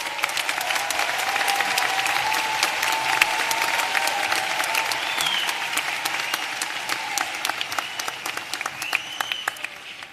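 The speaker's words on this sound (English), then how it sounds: "We have a warm round of applause," Sustained applause from the audience at a graduate program commencement, dense, even clapping filling the hall for about ten seconds at moderate distance, with no speech over it.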